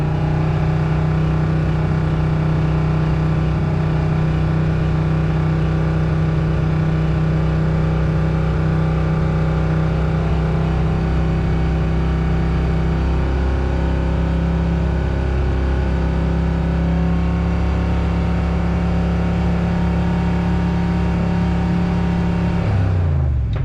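A Foxbody Mustang with an On3 turbo kit and Megasquirt engine management idles and revs steadily, its turbocharged engine holding a loud, continuous drone with a slight tone shift midway as the air-fuel ratio is adjusted during tuning, then cutting off at the end.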